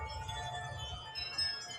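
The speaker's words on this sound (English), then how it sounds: "Look at the chimes in the garden way over there." Garden wind chimes, pushed hard by strong, howling wind, ring as faint, distant metallic tones that linger over a low rumble of wind noise.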